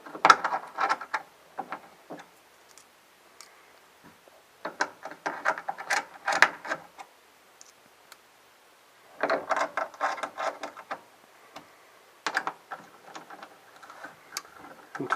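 Small M6 by 8mm button head screws being driven into a Split30 tour mode interface, giving bursts of close, dry ticking and ratcheting clicks in clusters separated by short pauses, with no talk.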